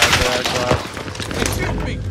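Gunfire in a first-person shooter video game aimed at the player, a dense burst of rapid shots with booming impacts close up, while a player talks over the action.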